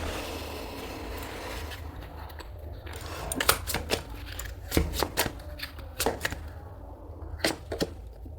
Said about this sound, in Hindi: अब यहाँ पे मैं थोड़े से फीलिंग्स के कार्ड निकालूंगी।